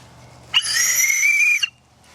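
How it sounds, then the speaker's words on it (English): One loud, shrill emergency whistle blast held for about a second, then cut off sharply. "Got an emergency whistle."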